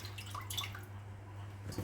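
Water trickles and drips from soaked plantains set to drain in a perforated colander, a quiet, steady sound close by with a low background hum and no talking.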